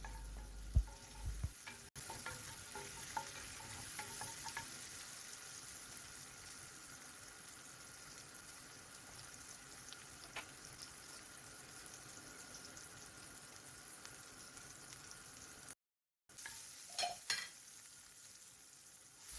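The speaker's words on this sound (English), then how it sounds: "Garlic and ginger. And whites of spring onions. Cook it for like few minutes." Garlic, ginger and spring onion whites stir-fry in a pan, giving a faint, steady sizzle with occasional light clinks of stirring; quiet throughout, broken by one brief dropout.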